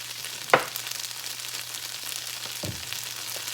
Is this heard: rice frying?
yes